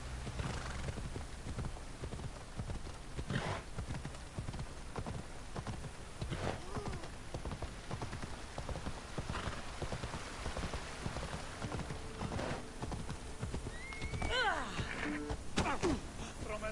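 Galloping horse hooves in the video game Assassin's Creed Odyssey, a steady rhythmic clip-clop of a ridden horse over a rain-like wash, with a neigh near the end.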